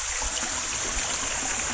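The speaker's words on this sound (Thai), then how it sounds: "ที่เที่ยวของเรา น้ำตกโตแาด ใกล้ที่สุดแล้วครับ" Tot waterfall near Na Mom pours steadily in a rushing, even wash of flowing stream water, close and continuous with no voices.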